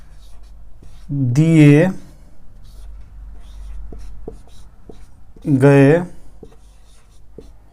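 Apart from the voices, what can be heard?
writing a maths equation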